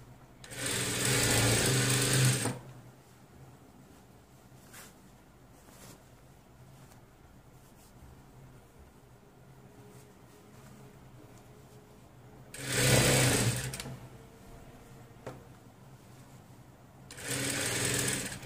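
A sewing machine stitches elastic and finishing seams on children's pants in three loud, close bursts of rapid whirring, separated by quieter pauses.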